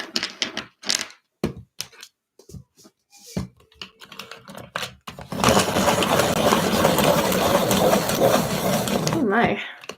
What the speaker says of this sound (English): that hand crank sharpener takes the whole desk with it, doesn't it?